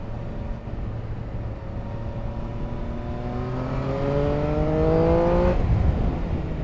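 A Triumph Speed Triple RS motorcycle accelerates hard through a gear, the engine note climbing steadily in pitch with rising rumble and wind noise, then cutting off sharply at the shift.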